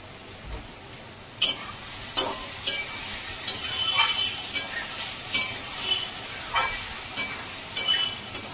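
A spatula stirs chickpeas into chopped banana flower in a pan, with sharp scraping strokes at an irregular rhythm over a soft, steady sizzle of frying.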